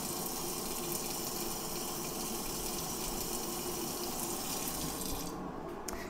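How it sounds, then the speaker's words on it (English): Tap water runs in a steady, full gush as a meat thermometer is rinsed under the faucet, loud and constant at close range, tapering slightly near the end. "I'm gonna rinse off the meat thermometer just to be extra careful."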